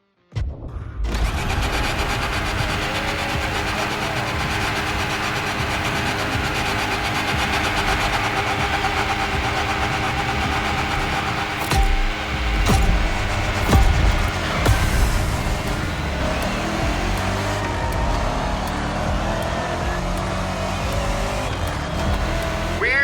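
Chevrolet Camaro ZL1 muscle car engine in The Crew Motor Fest, loud and close, with a sustained throaty roar that rises and falls through revs and briefly surges midway before settling back to a steady drone.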